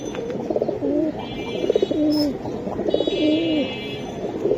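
Gorra pigeons with red eyes coo in repeated, rolling calls, close and clear, against a faint background hum and a few distant high chirps.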